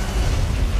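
A heavy weapon fires in the Kaiju No. 8 anime, giving a loud, sustained low boom that rumbles steadily through the whole short moment with no talk over it.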